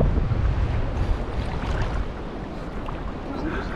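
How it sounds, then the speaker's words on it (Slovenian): Wind rushes and choppy sea water washes steadily around a sailing boat in the Caribbean, a continuous broad roar close to the microphone with no talk. "Zunaj pa ne vem, če se vidi, ampak je kar valovito, piha."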